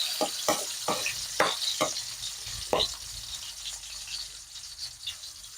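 Onion sautéing in a pan for Filipino mung bean stew with chicken feet: a steady close sizzle with several sharp scraping stirs near the start, then a softer continuous hiss.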